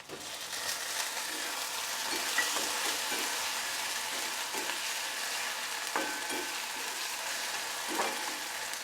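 Tomato pieces go into a pan already frying potato, eggplant and drumsticks, giving a steady close sizzle and crackle with a few scraping stirs throughout.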